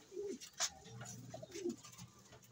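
Pigeons feeding their young, giving several soft, close coos in short rising and falling phrases with brief gaps between them, against a quiet background.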